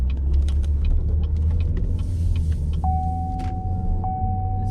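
A car drives along with a steady, loud low engine and road rumble, a few light clicks, and a thin electronic tone that starts partway through and holds.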